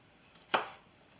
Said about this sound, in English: here's our chopped up blueberries